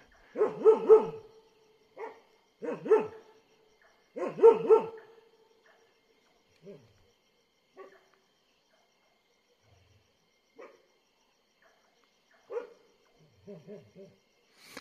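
Several dogs give muffled, fearful barks at night in a forest where a tiger was about, in clustered bursts early on, then sparse, fainter yelps and calls with quiet gaps between.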